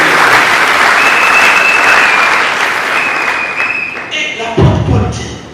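A church congregation applauds, a dense, loud wash of clapping that holds steady and then fades away, with a few voices rising near the end.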